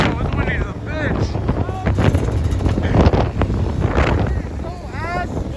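Strong wind batters the microphone while riding through a blizzard, gusting loudly and roughly throughout, with excited voices shouting over it.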